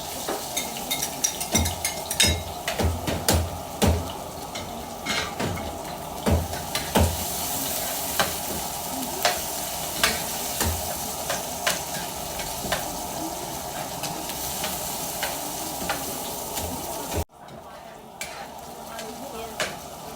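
Onion and ginger sauté in a hot pan, with a continuous sizzle of frying under repeated sharp scrapes and clinks of a utensil stirring against the metal.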